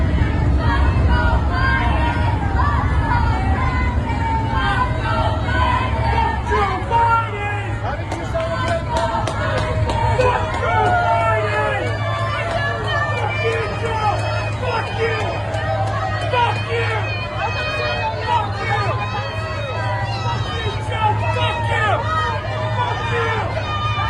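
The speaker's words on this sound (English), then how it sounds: "Let's listen to the crowd and how they respect him." A large crowd outside a church as the president comes out, a steady babble of many voices with scattered shouts over a constant low rumble, lasting throughout at a fairly loud, even level.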